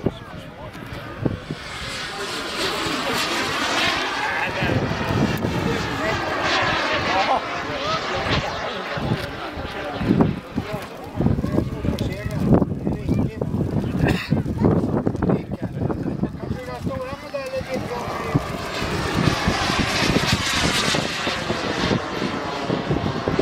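A loud, continuous roar from the twin engines of an F-22 jet with whooshing wind buffeting, as people talk over it at close range.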